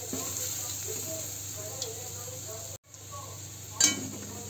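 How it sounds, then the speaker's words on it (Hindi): Ground coriander and red chili powder sizzle steadily as they fry in a pan, a continuous close hiss that briefly cuts out before a sharp clink of a utensil near the end. "धनिया पाउडर, लाल मिर्च, इसे हम लोग अच्छी तरह भूनेंगे।"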